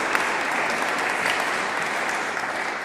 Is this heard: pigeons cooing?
no